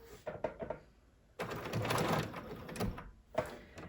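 A Bernina sewing machine stitching around yarn runs in short bursts, then a sustained mechanical whir in the middle, close and moderately loud, with brief stops between runs.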